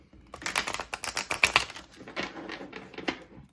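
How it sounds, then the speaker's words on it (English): Tarot cards being shuffled by hand, a stiff, hard-to-shuffle deck, giving a fast run of close, crisp riffling clicks and flaps that rise and fall for a few seconds. "These cards are hard to shuffle."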